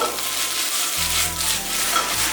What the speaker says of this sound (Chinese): 大火快速的翻炒，果条一定要炒到它很烫水